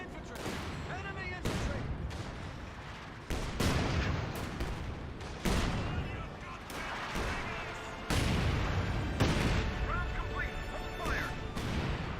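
Rifle grenades fire again and again in Company of Heroes 2, each launch and impact a loud crack-and-crash, mixed with gunfire bursts across a busy battlefield while a voice commentates over it.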